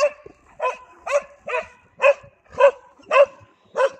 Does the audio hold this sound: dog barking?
yes